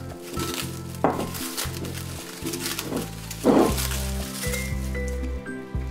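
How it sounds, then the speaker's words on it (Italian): Plastic cling film peeled off a bowl of chocolate sourdough bread dough, with soft crinkling and a few sharper crackles and squishy pulls over a low steady background. "Quindi togliamo la pellicola trasparente."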